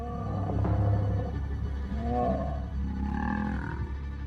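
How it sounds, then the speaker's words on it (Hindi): A lion in Sabi Sand roars and snarls deeply while pinning down a rival lion in a fight, the growls rising and falling in long, rumbling bursts throughout. "उसने अपने दुश्मन को दबोच रखा था और वो दहाड़ रहा था"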